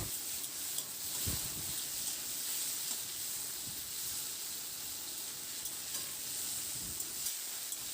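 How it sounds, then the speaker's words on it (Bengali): Potato pieces with salt and turmeric stir-fry in a pan, giving a steady soft sizzle with occasional scraping stirs and light clinks of the spatula, close and moderately quiet, with no one speaking. "লবণ আর হলুদটা দিয়ে আলুটাকে কয়েক মিনিটের জন্য একটু নাড়াচাড়া করে আলুটাকে একটু প্রথমে ভেজে নিতে হবে।"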